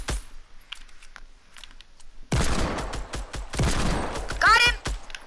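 Rapid bursts of video-game gunfire in a duo match, loud and dense from mid-clip onward, with sharp overlapping shots and clattering after a quieter opening of faint game sounds.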